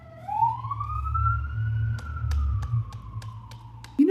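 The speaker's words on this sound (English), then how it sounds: "Pardon the siren." An emergency siren wails with a rising, sustained tone over a low engine rumble, with sharp clicks and knocks near the end.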